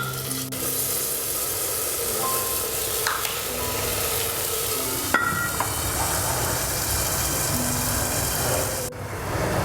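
Tomatoes with a little salt sauté in a pan, a loud, continuous close sizzle and hiss with occasional stirring scrapes and clinks, no voices.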